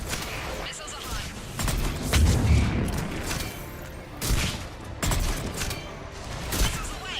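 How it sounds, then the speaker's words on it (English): Missile launches in Mass Effect 3 burst out as a series of heavy booming blasts, several loud thumps spaced a second or two apart over a rumbling battle backdrop, with voices speaking between them. "Missiles are hot."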